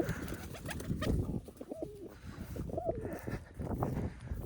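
Pigeons cooing in repeated throaty phrases nearby, including a 1.5-year-old pigeon, with soft rustling and shuffling between the calls.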